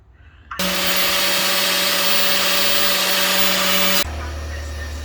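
A loud, close power drill drilling metal whirs continuously for about three and a half seconds at a steady pitch, then cuts off abruptly, leaving quiet background noise.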